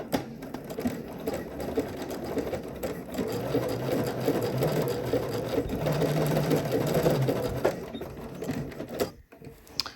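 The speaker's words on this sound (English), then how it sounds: "I'm going to ride that presser foot just kind of along the edge of that" A sewing machine stitches swimsuit fabric, the presser foot riding along the edge, in a steady, close whirring run lasting nearly the whole stretch before stopping near the end.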